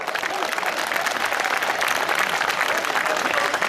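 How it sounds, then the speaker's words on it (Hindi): An audience at a Hindi kavi sammelan poetry gathering in Ambikapur applauds. Dense, continuous crowd clapping stays at an even, full level from start to finish. "एक बार तालियां ठीक से बजा दो।"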